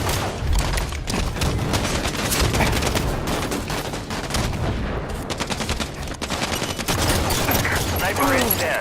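Rapid bursts of automatic gunfire and shots crackle in the video game Halo 5, loud and dense with brief gaps, mixed with distant booms and some game voice.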